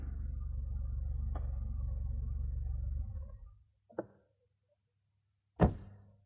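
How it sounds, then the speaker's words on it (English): Loud knocking at a door, as a storytelling sound effect: a low hum fades out, then two separate sharp knocks ring out a second or so apart in near silence. "Monica was asleep when she heard the loud knocking at her door."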